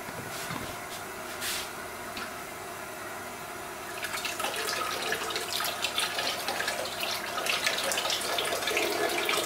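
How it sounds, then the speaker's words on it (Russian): A small water pump runs during distillate cleaning, pushing liquid through a hose from a container; a steady watery hiss and trickle continues throughout, growing slightly louder and busier partway through, with no talking. "Все, насос начал работать."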